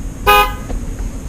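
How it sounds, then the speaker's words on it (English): A single short toot of a Porsche truck's horn, loud and close, lasting about a quarter second over a low idling rumble. "Where's the horn?"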